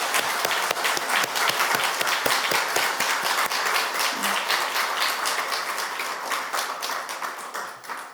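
Church congregation applauding during a Sunday worship service, dense sustained clapping from a crowd that stays steady and fairly close before tapering off at the end.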